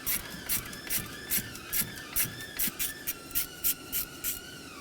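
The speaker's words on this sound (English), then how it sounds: "This is a 10mm stud that we're going to have to unthread." A hand ratchet unthreads a 10mm stud on a 6.0L V8 engine in a 2007-2014 Chevrolet Silverado 2500HD, giving a close, steady series of about a dozen evenly spaced clicks over a faint background hiss.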